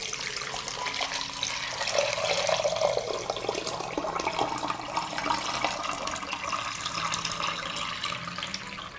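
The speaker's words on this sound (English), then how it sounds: "Pour hot water into the pot up to the height of the lid." Hot water poured into a pot holding glass jars, a steady rushing splash and gurgle that continues without pause, close and even in level throughout.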